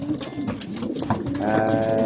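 Young racing pigeons crowded in a basket coo and flutter restlessly at close range, a dense, agitated jumble of calls and rustling.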